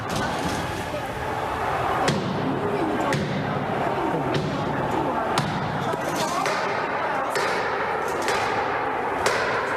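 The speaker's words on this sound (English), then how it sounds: "We have video of the protesters banging on the doors as they were trying to get into on the Capitol floor." Protesters pound on the doors of the US Capitol, and repeated heavy thuds and bangs ring out at irregular intervals over a constant roar of crowd noise, with voices shouting and talking throughout.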